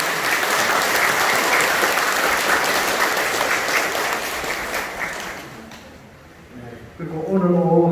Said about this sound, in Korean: 오늘 안 나오셨지만 우리 고마운 마음에 큰 박수 한번.